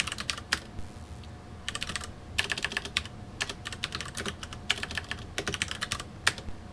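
Bursts of clattery typing on a computer keyboard, played against an Apple II game, come in short irregular flurries with brief pauses between, close up over a low background hum.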